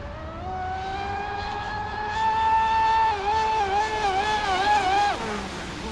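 A Super Sonicwake 48 RC boat fitted with a 1250kv motor runs with a steady high electric whine that climbs in pitch, wavers and then drops away as the throttle is eased, with no one talking.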